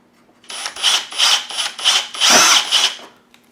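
A power drill bores a hole into the plastic of a Spirit Halloween Ghostbusters proton pack ion arm, a close, loud whine pulsing in about six short bursts over a few seconds, then stopping.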